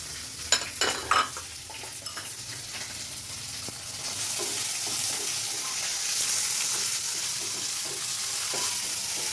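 Onions frying and being stirred in a pan for sambar, a steady close sizzle with a few sharp clacks of the spoon against the pan at the start, then continuous hissing.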